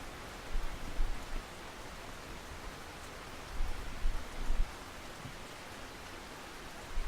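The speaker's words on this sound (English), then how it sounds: "Probably the rain." Rainfall at Mosquito Lake in the fishing game Russian Fishing 4, a faint, even wash of falling drops with a few soft rumbling swells underneath, no voices.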